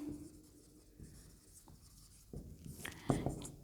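Handwriting on paper while working a cost accounting problem: soft, close scratching of a pen, with a few sharper taps and strokes toward the end, and no talk.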